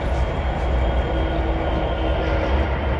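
Passenger train in Trainz 2022 rolls steadily with a continuous, loud rumbling drone and faint rail clatter, no pauses throughout.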